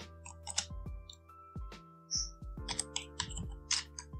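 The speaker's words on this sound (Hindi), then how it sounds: "टाइप करेंगे" Keys clatter in scattered bursts on a computer keyboard while code is entered in the VS Code editor, each tap sharp and close, with a low hum running underneath.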